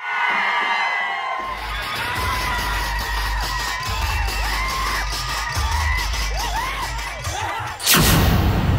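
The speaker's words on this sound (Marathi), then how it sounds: "राजन पाटील यांच्या समर्थकांनी अनगर नगरपंचायती बाहेरच एकच जल्लोष केला होता" A large crowd of a politician's supporters cheers outside the Anagar Nagar Panchayat office after a local election decision. Dense shouting and whooping carry on without a break, and a loud bang or thud comes near the end.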